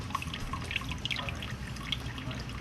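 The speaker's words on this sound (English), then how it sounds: "this is pouring off all the chorions, and the embryos are staying down behind at the bottom of the beaker" Water pouring off zebrafish chorions from a laboratory beaker, leaving the embryos at the bottom, gives a steady close liquid trickle with small drips and splashes throughout, without talk.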